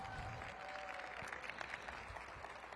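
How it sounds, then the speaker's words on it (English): Faint, distant audience applause at a Washington DC government event hosted by the mayor, a steady wash of many hands clapping with no single claps standing out. "Give them a big round of applause."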